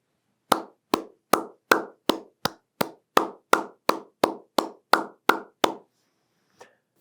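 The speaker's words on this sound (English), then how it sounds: "Will everyone around the region and the world join in a round of applause" Fourteen crisp, evenly spaced hand claps from a single person, near and loud, honour new graduates at a virtual commencement, followed by silence and one faint trailing tap.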